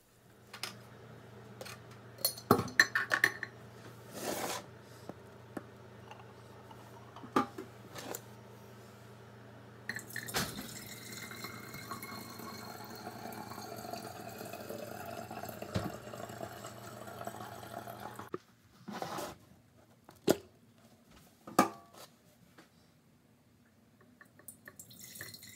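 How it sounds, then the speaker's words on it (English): Hard cider is poured slowly through a colander into glass jars, giving soft trickling and splashing in uneven bursts, with clinks of glass and quiet pauses between pours. "strain each of these into these two jars through a colander, very slowly"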